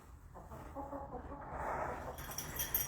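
A backyard chicken clucks in soft, throaty bursts nearby, rising into a louder run of clucks toward the end, with no talking over it.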